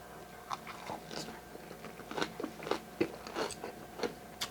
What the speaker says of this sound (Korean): 배추김치 먹었으니까 이번엔 파김치 이렇게 먹을게요